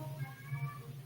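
A cat meows softly indoors, a faint drawn-out cry over a low background hum.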